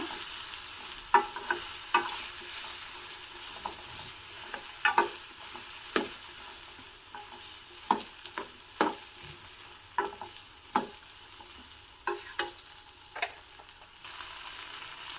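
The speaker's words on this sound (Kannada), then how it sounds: "ಒಂದು ಹತ್ತು ನಿಮಿಷ ಹೀಗೆ ಫ್ರೈ ಮಾಡ್ಕೋಬೇಕು" Amla gooseberries for a pickle frying in oil while being stirred, a soft steady sizzle broken by regular scraping strokes of a spoon roughly every second, close and moderately quiet.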